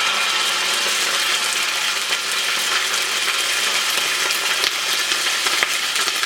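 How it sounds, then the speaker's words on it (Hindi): Ginger and garlic paste frying in hot oil for a kebab rice masala gives a steady, loud, close sizzle that hisses evenly with occasional small pops and clinks. "और इसको यहाँ पे आपने फ्राई करना है"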